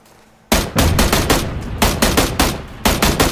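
Rapid bursts of M16 and SKS gunfire in the video game PUBG, loud close volleys of repeated shots in clusters after a brief quiet start, with no talk.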